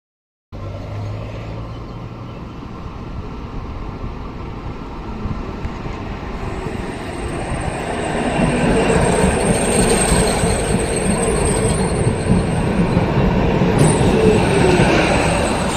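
A 1976 vintage tram running in Milan, its steady rumble and rattle of wheels on rail growing louder and fuller partway through, with a faint high squeal near the end.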